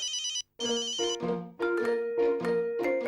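A phone ringtone plays loudly, a repeating electronic melody with a short pause early on, then several bright chiming tones in a steady rhythm.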